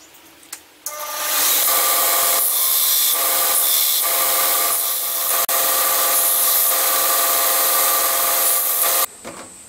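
Rough cutting a metal rod for a Stuart Turner No. 8 mill engine gives a loud, steady rasping grind that runs almost unbroken for about eight seconds before stopping abruptly, close and alone with no talk.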